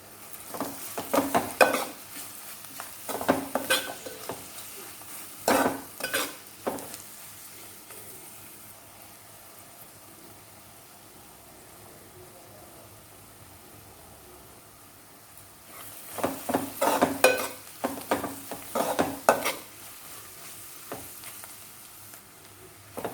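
Onions fry in a pan with salt and turmeric for an old-style egg curry, giving a soft steady sizzle with bursts of spoon scraping and stirring against the pan early and late, and a quieter simmer in between.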